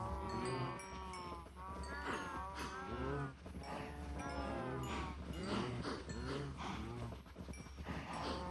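Minecraft cattle lowing in a steady, overlapping chorus of moos, with a constant low drone underneath and no talking.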